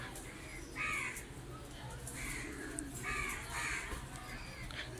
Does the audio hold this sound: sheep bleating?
no